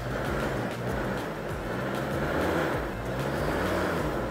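A Mahindra Thar off-roader stuck in mud with stones placed under the wheels, its engine droning loud and steady as it strains to climb out, with no talk over it.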